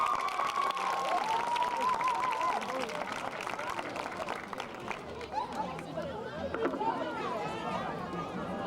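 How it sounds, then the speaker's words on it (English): A homecoming crowd applauds the nominees, clapping and cheering mixed with chatter and nearby voices, fairly even throughout with a whistling tone early on. "Let's give all our nominees a round of applause."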